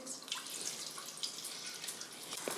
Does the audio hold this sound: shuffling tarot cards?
no